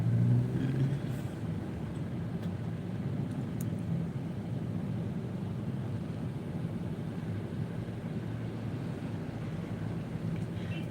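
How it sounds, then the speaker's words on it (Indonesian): Vehicles queue on the Pettarani toll road in Makassar, giving off a steady low rumble of idling and slow-moving engines. A faint, even traffic drone, slightly louder at the start, with no talking. "kita lihat di belakang aku juga banyak kendaraan yang antri"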